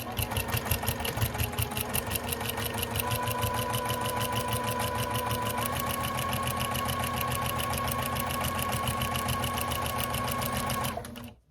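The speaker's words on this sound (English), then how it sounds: "start stitching again where I have my fold in the binding" Sewing machine stitching folded binding on a small quilted Christmas mug rug, a steady rapid mechanical whir running continuously and close for about eleven seconds before stopping abruptly.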